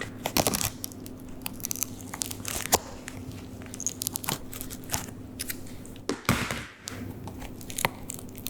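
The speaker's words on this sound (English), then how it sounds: "and basically cut the shank out." Scissors cut the shank out of a pointe shoe in close, quiet bursts of crunching, snipping and tearing, with irregular sharp clicks and a longer rip near the end, no talk.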